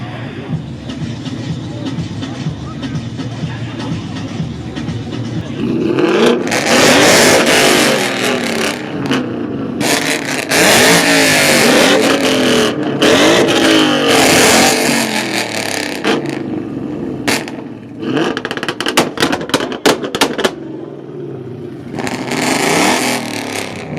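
Car engines revving hard at a car meet, loud repeated bursts and sharp crackling pops from the exhaust as flames shoot out, building after a rumbling idle and cutting in and out in rapid bursts.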